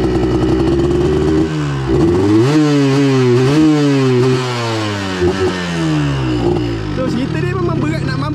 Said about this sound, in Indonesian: korang tengok macam mana aku bawa motor di jalan kampung